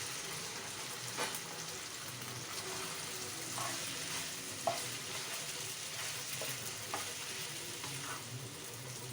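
Soaked sago pearls sizzle and fry in a pan for khichdi, with a steady soft crackle broken by occasional scraping stirs, faint and close.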